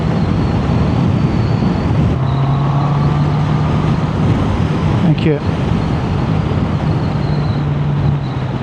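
Road traffic heard from a moving motorcycle, with passing cars and a steady engine and wind roar throughout; a brief whooshing pass near the middle and a short spoken word.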